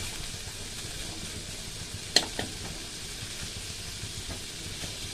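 Ginger sizzling lightly in a pan while being prepared for fried rice, a steady soft frying hiss with a couple of brief utensil clicks near the middle, no voices.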